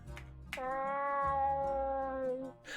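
A single long, clear cat meow from the video game Sorbetta: Gravely in Debt, close and bright, rising then gently falling over about two seconds.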